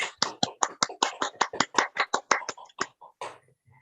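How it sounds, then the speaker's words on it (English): Rhythmic clapping at an award ceremony, about fifteen sharp, evenly spaced claps close to the microphone, slowing and thinning toward the end before a faint trailing sound. "Can we start with a big round of applause, please?"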